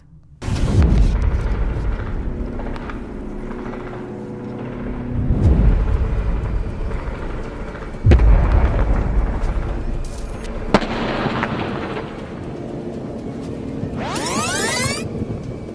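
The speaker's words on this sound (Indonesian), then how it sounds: "momen ledakan dengan kepulan asap tebal mengepul ke udara saat alat peledak meledak" Explosive device detonating beside an Israeli vehicle during an ambush: several deep booming blasts spaced a few seconds apart with rumbling low-end tails, loud and close, with no voices.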